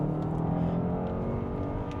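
Steady engine drone from a 2026 Volkswagen Atlas with a four-cylinder motor, building gently under acceleration from inside the cabin, continuous and moderately loud with no voices.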